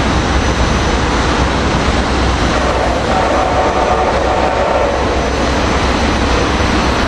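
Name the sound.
Amtrak Acela train passing by, northbound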